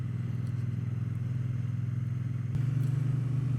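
A Triumph Bonneville motorcycle riding along a country road on the Isle of Man, its engine a steady low throbbing drone that steps up in pitch partway through as the bike accelerates.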